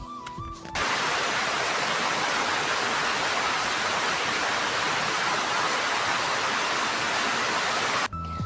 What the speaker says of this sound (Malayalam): ഞാൻ ഈ മഴയുടെ ശക്തി ഒന്ന് കാണിച്ചു തരാം കേട്ടോ.